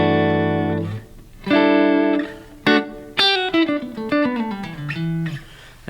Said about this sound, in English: So here's clean tone. It's the Iridium, it's kind of a Fender deluxe reverb kind of sound.